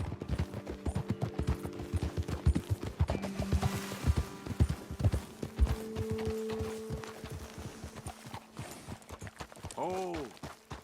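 Horses walk at a steady clip-clop in Red Dead Redemption 2, hooves thudding in a regular rhythm over the whole stretch, with speech and game sounds layered on top and a brief whinny-like tone near the end.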